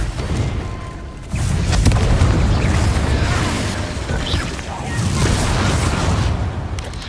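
Confringo fire spell explosions cast in the Hogwarts Legacy video game, loud and sustained booming blasts with rumbling low end, rising again partway through amid continuous game action.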